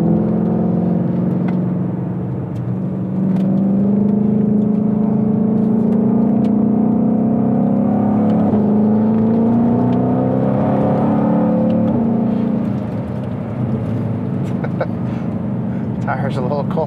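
A 2020-2022 Shelby GT500 in sport mode, traction control on and tires still cold, drones steadily through a roundabout with a deep sustained engine note. The pitch rises and eases slightly, and voices talk over it inside the cabin.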